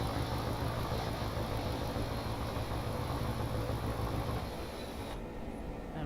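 A locomotive engine drones steadily in the Train Simulator game during a storm scene, a continuous low rumble with a broad hiss that drops slightly near the end.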